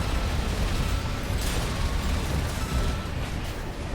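A loud, dense roaring explosion in a mech combat video game set on Rubicon, sounding as a continuous rumbling blast with crackling debris that holds steady for several seconds without speech.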